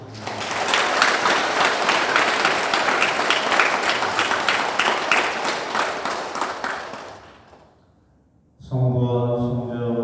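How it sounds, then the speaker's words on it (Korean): Congregation applauding in a Catholic church during Sunday Mass, dense clapping for about seven seconds that fades out, a brief pause, then a voice begins speaking or chanting. "박수로 감사합니다."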